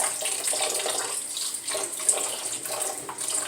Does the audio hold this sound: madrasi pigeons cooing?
no